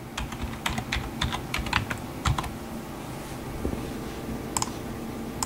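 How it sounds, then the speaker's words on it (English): Computer keyboard typing while lettering is entered in a graphics program's text tool: a fast run of crisp, close key clicks in uneven bursts, thinning to a few isolated taps near the end. "I'm going to type in original"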